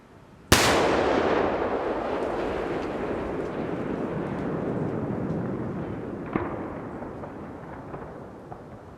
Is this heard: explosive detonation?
yes